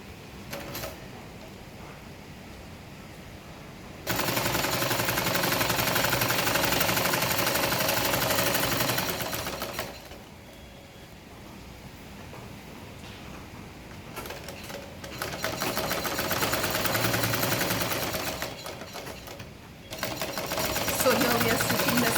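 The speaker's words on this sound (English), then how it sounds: "So here we are stitching the second side seam" A sewing machine stitches the side seam of a denim tote bag, parallel to the selvage: two long, loud, steady runs of motor whir separated by a quieter pause.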